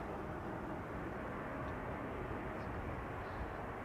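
A KLM airliner in special chocolate livery, flight 1774 from Berlin, arrives at Amsterdam Schiphol, its engines a steady, broad roar held loud and close throughout.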